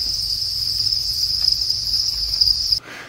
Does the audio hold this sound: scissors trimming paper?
no